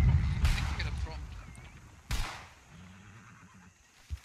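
A horse in a video game whinnies loudly over heavy low rumble, with a second sharp burst partway through, a soft voice murmuring, and a brief thump near the end.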